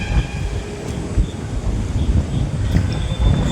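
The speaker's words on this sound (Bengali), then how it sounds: "সুন্দর হাওয়া দিচ্ছে" Outdoor wind gusting steadily across the microphone, a continuous low, rumbling rush with small swells, close and fairly loud, no voices.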